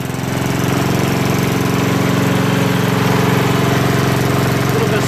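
A small lawn mower engine, freshly cleaned carburetor, runs steadily at close range with an even, continuous drone and no talk.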